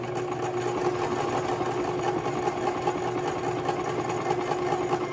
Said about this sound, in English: I'll do 1 reverse, let it go, and then I'll continue sewing.